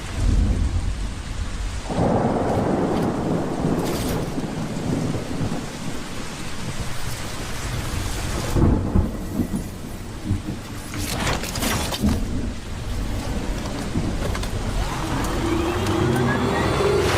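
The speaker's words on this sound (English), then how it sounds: "raindrops are falling on my head, they keep falling" Heavy rain and rolling thunder in the video game Death Stranding 2, with a dense continuous downpour and several deep rumbling thunder bursts throughout, loud and enveloping.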